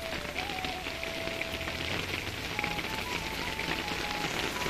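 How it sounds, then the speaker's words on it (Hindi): Dense, continuous rain patters close by, a thick steady hiss with scattered droplet impacts and a faint tonal hum underneath. "काफी तेज बारिश हो रही है।"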